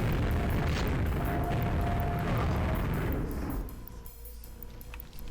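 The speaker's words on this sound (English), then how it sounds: "So you see it blows up immediately." A grenade launcher mod explosion in a video game: a loud, sustained booming blast rumbles for several seconds, then cuts to a quieter, thinner aftermath.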